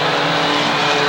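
Mini stock race cars roaring past slower traffic at Waterford Speedbowl oval, a dense, loud engine drone sustained through the moment without pause.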